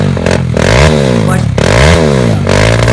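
Formula Student race car engine revving hard, loud and close, with repeated sweeping rises and falls in pitch as the throttle is blipped, a rasping harmonic-rich tone throughout.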